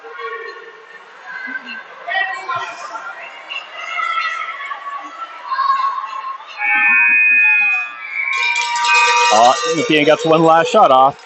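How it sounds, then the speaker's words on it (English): A loud, sustained end-of-game buzzer sounds at a youth U14 ringette tournament game, holding steady for about a second and a half over arena noise and crowd chatter while a commentator talks throughout. "the buzzer goes off before it reaches the goalie"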